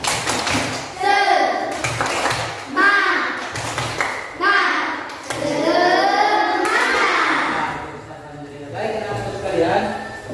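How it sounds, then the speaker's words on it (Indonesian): A group of children in a classroom claps in short rhythmic bursts while chanting a Tepuk Semangat clapping chant together in unison, with pauses between each clapped phrase. "Anak coba tepuk semangat"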